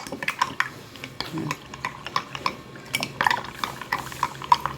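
A plastic spoon stirs a mixture in a container, making repeated light clicks and scrapes in an irregular rhythm, close and clear with no one speaking.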